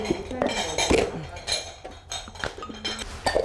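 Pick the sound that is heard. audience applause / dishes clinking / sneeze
dishes clinking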